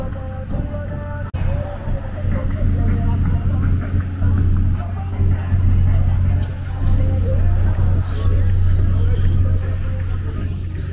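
A city bus pulls up to a stop on a New York City street, its low engine rumble close and steady, with background chatter and street noise around it.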